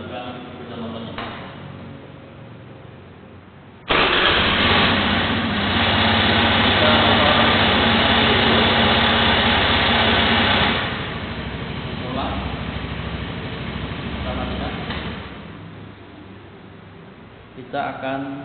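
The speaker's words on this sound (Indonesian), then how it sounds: "Kemudian kita coba hidupkan sepeda motornya." A motorcycle engine with electronic fuel injection and its exhaust refitted, standing on its main stand, starts up abruptly and runs at a loud, steady idle nearby, then eases to a quieter idle with occasional small revs and a voice speaking.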